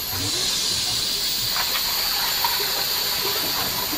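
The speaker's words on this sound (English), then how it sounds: "Now that water's really flowing." Water rushes out of a filter valve with a constant loud hiss, a steady gushing stream that stays even throughout.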